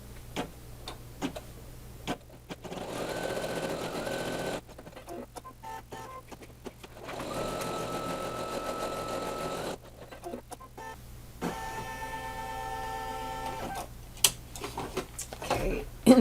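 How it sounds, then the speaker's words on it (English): A home embroidery machine stitches the placement outline for appliqué clouds, giving steady rapid ticking runs that stop and start in bursts, with close pauses between passes. "So now it's the placement stitch for the clouds."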